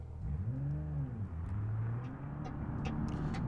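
A car driven in the BeamNG.drive simulation game hums along with a low engine drone whose pitch rises, dips and settles, steady and fairly quiet with faint clicks over it.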